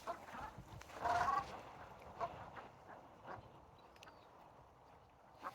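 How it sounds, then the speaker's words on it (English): Ducks out on a snowy evening give a quick burst of odd, honking calls around the one-second mark, then softer scattered calls over steady wind and outdoor noise. "Whoa, they're making funny noises, too. It's like a parade of ducks."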